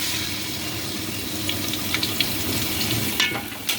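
Sliced onions frying in hot white cooking oil, a steady close sizzle and bubbling with a few brief sharper crackles.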